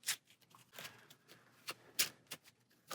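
A deck of Marvel Champions cards is riffled and shuffled on a table, several quick crisp bursts of flicking card noise at close range, fairly quiet with no talk.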